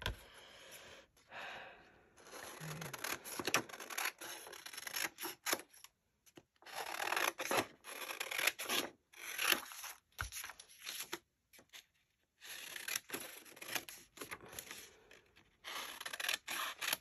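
Scissors snipping through a sheet of patterned craft paper, cutting out a picture to decorate an envelope pocket; soft rasping, irregular cuts come close and clear in short bursts separated by brief pauses, with no talk.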